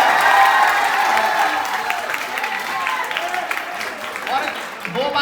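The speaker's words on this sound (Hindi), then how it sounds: "एक बार दोनों हाथ खोल के जोरदार ताली बजाएं" College audience at a comedy poetry show applauds, a wide crowd's clapping and cheering that swells and dips over several seconds, with voices and some talking mixed through it.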